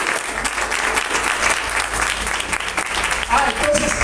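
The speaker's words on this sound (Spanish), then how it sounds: "Denle un aplauso al Señor." A church congregation breaks into sustained applause during a Spanish-language worship service, a dense steady clapping that fills the room for several seconds with a little crowd noise mixed in.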